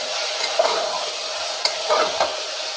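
Chicken pieces stir-fried in a pan with onions cooked to a red-brown, giving a steady close sizzle with occasional scraping clinks of a spatula, no voices.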